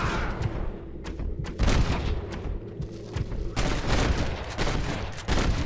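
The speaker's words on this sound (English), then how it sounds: "There's a man shooting at you." Repeated gunfire in Red Dead Redemption, a western shooter: several sharp shots crack out in irregular bursts, loud and close, with rumbling echoes and a continuous background ambience between volleys.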